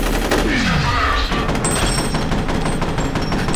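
Gunfire in the shooter game F.E.A.R., a loud continuous burst of shots mixed with a descending whoosh and game noise.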